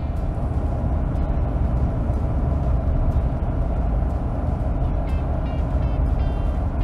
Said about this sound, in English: Turbo spooling up pretty good, as you guys can see.